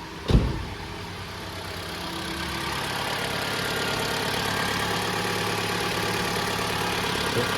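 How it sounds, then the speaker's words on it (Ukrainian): A Mitsubishi ASX engine with a newly replaced timing chain, battery slightly low, idles steadily and close by after a brief sharp knock at the start, its even hum holding alone. "Ось така робота двигуна."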